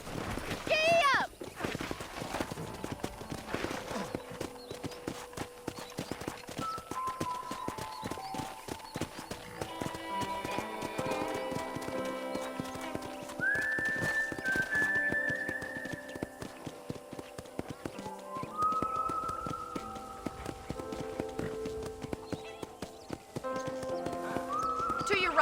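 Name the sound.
horse galloping, from Red Dead Redemption video game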